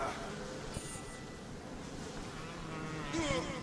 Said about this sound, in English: I'm getting attacked by bees